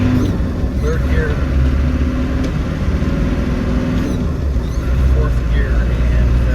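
A 1995 Land Rover Defender 110 with the 300Tdi diesel engine driving on a road, giving a loud, steady engine and road rumble from inside the cab while a person talks over it.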